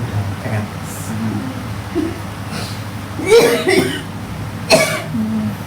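A person coughs and clears their throat in bursts amid murmuring voices and background hum, fairly close, with some chuckling nearby.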